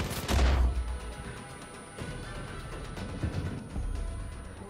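Gunfire in the video game Far Cry 5 during a co-op driving sequence: a loud burst of shots at the start, then scattered rattling fire and rumbling engine noise continuing at lower level.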